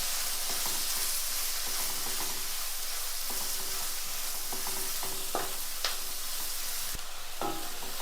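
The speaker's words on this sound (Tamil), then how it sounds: "சேர்த்துட்டு இந்த ஆனியனை நல்லா வதக்கிக்குவோம்." Chopped onion with salt sautéing in oil for an egg gravy, giving a constant dense sizzle with occasional stirring scrapes and a couple of sharp utensil clicks, steady and close.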